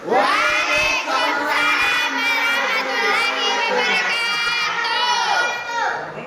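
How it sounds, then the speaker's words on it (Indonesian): A classroom audience of students cheers and shouts for a presenting group, a loud, dense crowd roar of young voices that carries on nearly unbroken, with no clear clapping rhythm. "kita kasih aplaus untuk kelompok 4"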